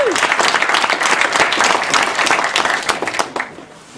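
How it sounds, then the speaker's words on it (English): Audience applause rings out for the fighters at a mixed martial arts press conference, loud and steady clapping from a crowd that continues evenly before tapering off in the final second. "let's give the fighters a round of applause"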